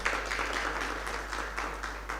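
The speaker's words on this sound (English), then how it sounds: "Let's give our panelists a round of applause. Another round of applause to the audience." An audience at a lecture session applauds panelists, a brief steady patter of many hands clapping in a room over a low constant hum.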